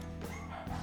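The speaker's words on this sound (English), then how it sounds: "you guys can hear my dogs go crazy" Several dogs bark and yip briefly in the distance, a quick muffled burst over a steady low background.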